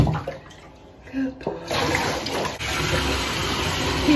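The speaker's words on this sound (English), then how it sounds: "He loves when the water is running. I'm gonna just let it kind of let the tub fill up" Water gushes steadily into a bathtub for a dog's bath, a loud continuous rush that starts after a brief quieter moment with some muffled sounds.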